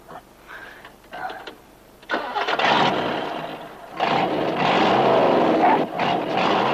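A car with a brand-new engine, in a 1987 film, cranks and catches about two seconds in, then roars louder from around four seconds and keeps running steadily, close and loud.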